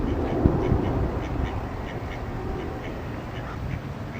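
Ducks quack near a rooftop tent campsite, a few short irregular calls over a steady outdoor background hum, moderately close and not loud.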